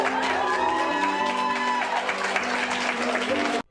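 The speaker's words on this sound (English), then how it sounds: "Let's get a round of applause," A crowd applauds and cheers at a soldier's homecoming reunion, with steady clapping and scattered whoops. Music plays underneath before the sound cuts off abruptly.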